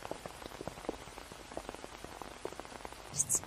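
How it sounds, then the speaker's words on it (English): Light rain patters on an umbrella in quick, irregular taps, soft and close, with a brief brighter rustle near the end. "A little rain won't hurt."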